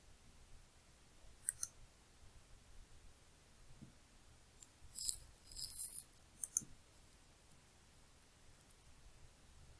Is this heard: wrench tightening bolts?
no